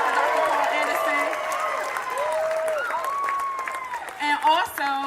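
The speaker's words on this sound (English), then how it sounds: "Let's clap it up for Dr. Paul Anderson." Audience applause at a reparations movement talk, clapping running throughout under whooping and shouting voices, fairly close and busy.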